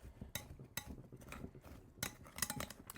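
A utensil stirs flour around a bowl for a fruit crisp, giving soft scraping with a few sharp clinks against the bowl at irregular moments, close up and with no talking.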